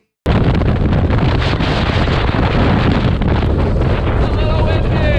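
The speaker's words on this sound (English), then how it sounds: "As you can see, it is crazy windy" Strong wind buffets the microphone on a beach in Patagonia, a loud, continuous roar of gusts with rumbling low-end turbulence filling the whole stretch, with no break.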